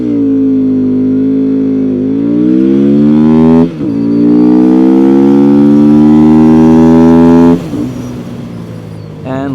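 A Benda Chinchilla 450 motorcycle engine rises steadily in pitch through the gears, a loud, close, continuous drone with brief dips at each shift and no talk over it.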